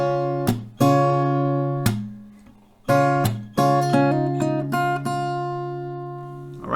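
Acoustic guitar plays the G part of a song: a series of strummed chords and plucked notes ringing out, with gaps between some strums and quicker notes later, close and clear, with no talking.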